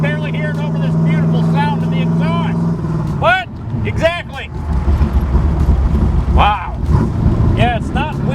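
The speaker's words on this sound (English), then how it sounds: "I can barely hear it over this beautiful sound of the exhaust." Exhaust of a 1968 Chevrolet Corvette idling with a deep, steady low rumble that continues throughout, loud and close, while people talk over it intermittently.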